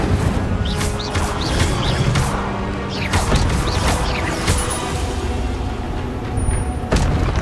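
Spell effects from Hogwarts Legacy, with an Incendio fire spell cast amid others, sound as a busy run of whooshing bursts, crackles and impacts over a steady rumbling game backdrop.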